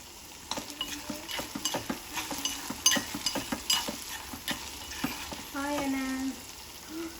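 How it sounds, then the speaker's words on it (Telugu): Half a spoon of turmeric stirred into a sizzling mixture in a pan: repeated scraping strokes of a spoon against the pan over steady frying hiss, close and moderately loud, with a brief voice near the end. "ఒక అర స్పూన్ పసుపు వేసుకొని కలుపుకోండి"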